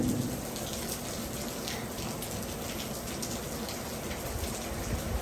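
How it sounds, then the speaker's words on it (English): Steady rain falling outdoors beside a Traeger smoker grill on a cold, wet day, a dense continuous patter of drops at even loudness with no talking. "Raining and smoking."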